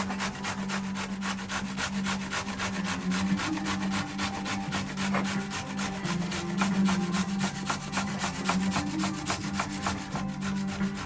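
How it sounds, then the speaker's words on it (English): Courgette rubbed against a grater in a steady, fast rasping rhythm, close and continuous for several seconds with no talking. "Then a small end of courgette, and I'm just going to grate it."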